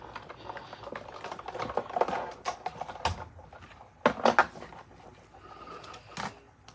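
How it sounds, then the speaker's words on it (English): Die cut machine rolling a plate through plain cardstock, with a series of clunky mechanical clicks and rattling grinds in uneven bursts, close and moderately loud. "Ooh, come on, die cut machine."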